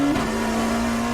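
A Dallara P217 LMP2 race car in iRacing accelerates hard at Circuit of the Americas, its engine holding a loud, steady, high-pitched drone that climbs slightly, close and continuous with no talk.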